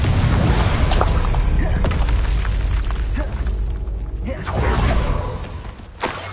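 Confringo and Bombarda spell blasts in Hogwarts Legacy, booming explosive impacts and whooshing bursts piling up in a loud continuous combat roar, with a few separate blasts standing out.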